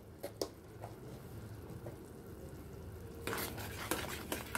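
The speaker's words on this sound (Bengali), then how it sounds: "ভালো করে নাড়িয়ে মিশিয়ে দিচ্ছি" Cashew paneer curry in mustard sauce being stirred in a pan, with soft scraping of a spoon against metal over a low sizzle and a few sharper clinks near the end.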